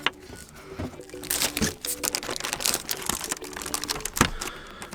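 Crinkly rustling and scraping from handling the cardboard box of a Logitech G513 keyboard during an unboxing, with irregular close-up crunches and taps that come in bursts.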